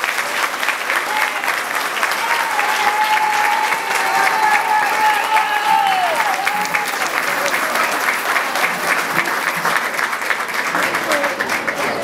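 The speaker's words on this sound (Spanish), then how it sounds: "Vamos a recibir a nuestro líder Francis Peña con un fuerte aplauso." A gathering greets its leader, Francis Peña, with loud applause that runs for about twelve seconds. Whistles and cheering voices rise over the clapping partway through.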